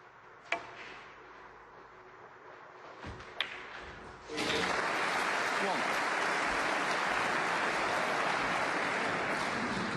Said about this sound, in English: It's a big round of applause for that